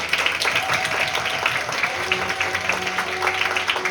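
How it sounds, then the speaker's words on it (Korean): Audience applause at a closing ceremony of a student Model UN conference, steady dense clapping filling the whole moment with some background voices mixed in. "모두 큰 박수 부탁드립니다."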